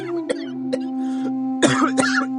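A man coughs in short, sharp bursts, first singly and then in a harsher cluster, near and clear over a steady low hum, set in a village kitchen filled with smoke from a stove.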